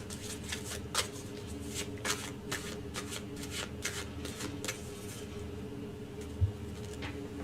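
A deck of tarot cards is shuffled close by, with repeated crisp riffling bursts in an irregular rhythm and a soft rubbing texture between them.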